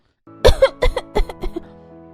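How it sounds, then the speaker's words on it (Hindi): A child coughs repeatedly at close range, five or six harsh bursts in quick succession, set in a cold house where the air conditioner is left running through winter. "देख कितनी खांसी हो रखी है इसको।"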